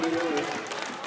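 Crowd of fans applauding and cheering at a high school football game, a dense steady wash of clapping and crowd noise with a commentator's voice talking over it.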